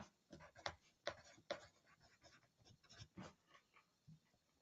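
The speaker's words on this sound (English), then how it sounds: "I want you to write up here the word gross" Writing on a board with a marker or chalk, a series of scratchy strokes in uneven bursts, close and fairly quiet, with no talking.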